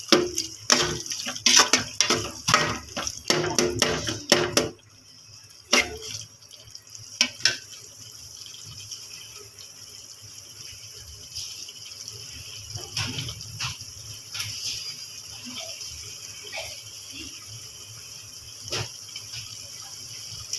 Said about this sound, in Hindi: अब इसमें मैं पानी आधा गिलास ऐड कर दूंगी।